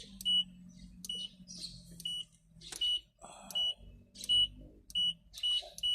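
A Kobelco excavator's gauge cluster alarm beeps in short, high electronic pips repeating at a steady rhythm, fairly loud and close, with clicks and faint mechanical handling noises between beeps.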